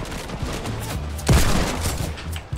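Gunfire rattles in the video game Fortnite, a quick burst of shots with one heavier blast standing out midway, loud and close over a dense game background.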